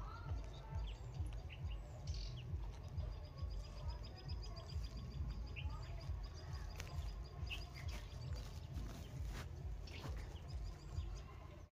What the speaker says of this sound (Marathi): हे पक्ष्यांचा आवाज आहे फक्त